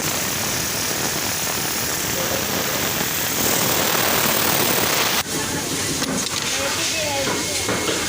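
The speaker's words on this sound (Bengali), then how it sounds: "তো আমি এখন সুইচ দেখেন, এই যে মেশিন চলতেছে।" A jam machine with a pocket loader that fails to carry the pocket to the head and throws a loader sensor error runs loud and close: a constant whooshing mechanical roar, with a sharp clunk midway and lighter rattling afterward.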